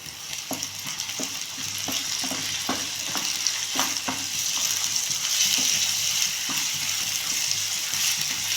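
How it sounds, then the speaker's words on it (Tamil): Chicken pieces and onions fry in hot oil for a samosa filling, making a constant, moderately loud sizzle with a rhythmic run of spoon knocks against the pan early on, and no voices. "இது நம்ம நல்ல பீஸாக கட் பண்ணி வச்சா நம்ம சிக்கனை போட்டுக்கலாம். எண்ணெயில் கொஞ்சம் நேரம் வேகட்டும்."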